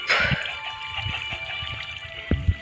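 Water runs in a Minecraft world during a hardcore redstone build, a soft steady trickle with a few light splashy taps, faint and close, with no talk.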